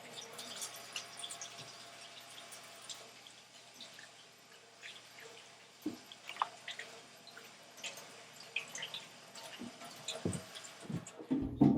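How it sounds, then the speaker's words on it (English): Hands being washed under a running kitchen faucet, with a steady trickle and patter of water, soft splashes and drips, all fairly quiet and alone with no talking. "you're going to want to wash your hands thoroughly"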